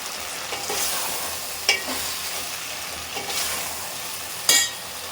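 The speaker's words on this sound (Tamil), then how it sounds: "போட்டுட்டு எல்லாத்தையும் நல்லா கிண்டி விட்டுருவோம்" Vegetables for a prawn curry with drumstick, brinjal, potato, onion and tomato being stirred in a frying pan, a steady sizzle broken by a few sharp scraping strokes of the spoon, close and without talk.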